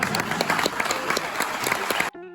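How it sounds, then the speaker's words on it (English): Dense audience applause at a street photography festival in Gothenburg, steady and full for about two seconds, then cut off abruptly into a brief tonal sound. "Give yourself a big applause."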